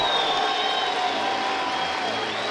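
Baseball stadium crowd of nearly 7,000 on its feet at a Wichita State–Creighton game, a steady broad roar of cheering and applause with a faint high whistle-like tone over it.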